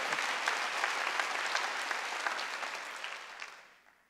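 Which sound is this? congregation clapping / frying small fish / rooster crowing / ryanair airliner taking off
congregation clapping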